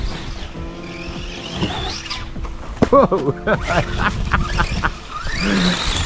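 A small RC race car runs on an indoor raceway track, its tires squealing and skidding through turns with motor whine throughout, while someone talks and exclaims over it.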